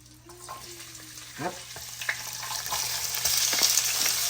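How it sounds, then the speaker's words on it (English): Squash and wild-caught shrimp sizzling in hot oil in a backyard pan, a steady crackling fry that builds slightly louder over a few seconds, with occasional stirring scrapes and no talk. "Throw your oil one time. This will fry up the squash, right?"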